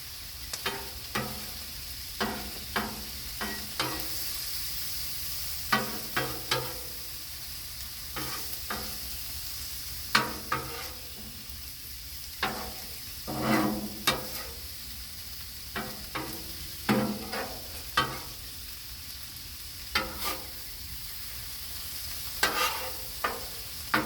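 Crispy-skin salmon sizzles in butter on a Blackstone griddle, a steady frying hiss broken by regular sharp scraping and tapping bursts from a spatula across the hot surface, close and moderately loud, with no talking.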